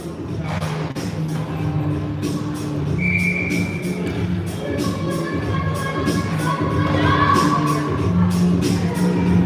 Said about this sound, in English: That cheering or communication you might hear is the Campbell River bench, the players still talking to each other